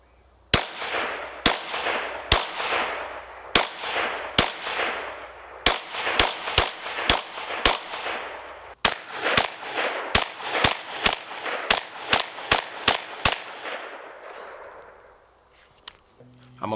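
A CMR 30 rifle fires Federal 50 grain rounds in a rapid string of about twenty sharp, loud cracks, each with a brief decaying echo, irregularly spaced and then ending in quieter outdoor ambience.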